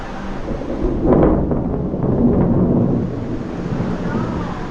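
Thunder rumbling during a storm at sea, watched from the deck of a cruise ship, with steady rain and wind noise and faint voices in the background.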